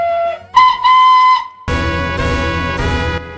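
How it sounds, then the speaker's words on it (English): Steam whistle of Gator, a CGI Thomas and Friends engine, pitched several steps below Charlie's: short toots, then a longer steady blast, followed by a loud, rich multi-tone whistle sounding alone. "Gator's whistle is just Charlie's whistle but 7 pitches lower."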